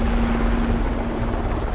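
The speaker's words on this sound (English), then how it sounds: "The chopper takes off to conduct an aerial search." A helicopter taking off, a loud, steady rotor whir with a constant engine whine, close and continuous with no voices.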